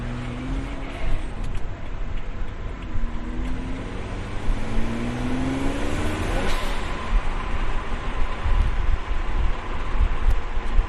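A car with a dual-clutch transmission drives under throttle, its engine note droning and rising in pitch over steady road and wind noise, loud and close from inside.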